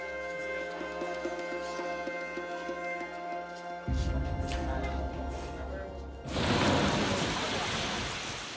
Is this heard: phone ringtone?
no